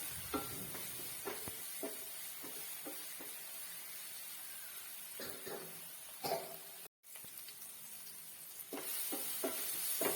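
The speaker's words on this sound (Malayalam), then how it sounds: "ഇനി ഇതെല്ലാം കൂടി നന്നായിട്ടൊന്ന് വഴറ്റി തക്കാളി വേവിച്ചെടുക്കാം" Tomatoes sauté with turmeric and chili powder in a pan for tomato rice, making a faint, soft sizzle under repeated spatula taps and stirring scrapes, with no talk.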